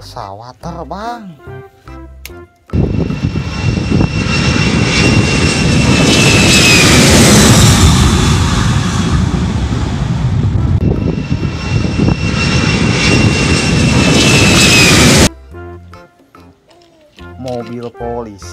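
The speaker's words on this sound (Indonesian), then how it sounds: "Pesawat terbang." An airplane's engine roars loud and steady for roughly twelve seconds, with a high whine over the rumble, while a voice can be heard speaking before and after it.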